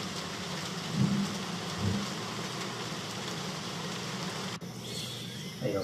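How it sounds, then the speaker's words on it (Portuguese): Steady rain from a CryEngine 3.5.8 game environment hisses as a dense, even wash of falling drops, with brief low rumbles early on and a sudden cut near the end. "Começou a chuva, então deu o som da chuva."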